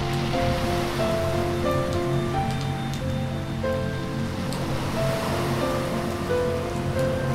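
Sea waves wash onto the shore at Mandarmani in light drizzling rain, making a steady continuous surf wash with scattered faint tonal background sounds.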